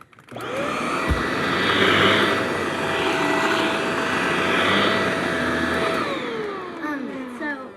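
A Shark Lift-Away vacuum cleaner runs with a steady, loud motor whine and broadband airflow roar, holding constant for several seconds before the pitch drops away as it winds down near the end.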